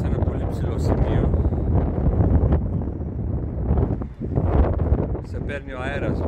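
Gusty wind buffets the microphone at a high outdoor viewpoint, rising and falling in loud rumbling bursts while a person talks throughout.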